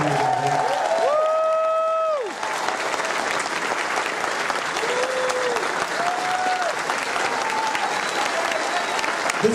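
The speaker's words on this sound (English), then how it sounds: "please, big round of applause" A crowd at the Megaplex closing ceremony applauds the event staff with dense, sustained clapping that fills the whole stretch, with brief tones sounding over it early on.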